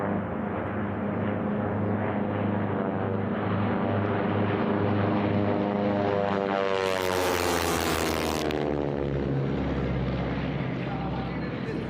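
Propeller planes in a closed-course air race, T6 class, roar steadily and loudly throughout, with one aircraft passing close overhead in a rising and falling sweep near the middle.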